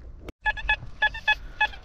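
A metal detector sweeping over a buried coin in the ground gives a tuneful signal, six short clear electronic beeps in an uneven rhythm after a brief click, close and loud with no speech.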